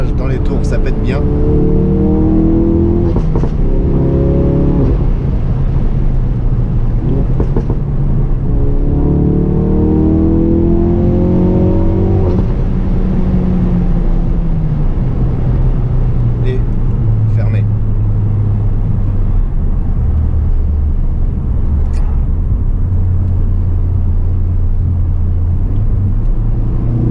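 Ford Focus RS mk3 engine rumbling loudly with rising revs and sharp crackles, under continuous talk throughout.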